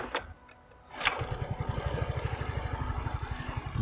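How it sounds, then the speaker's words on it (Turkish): A Yamaha RayZR scooter engine kicks into life after a few brief clicks and a short lull, settling at once into a steady, close, fairly quiet rhythmic idle putter that carries on to the end. "Kickstart hemen çalıştırıyor motoru."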